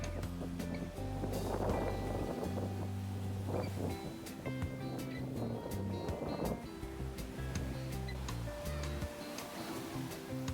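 Ocean waves wash steadily onto a beach, a continuous rolling surf with wind buffeting the microphone throughout.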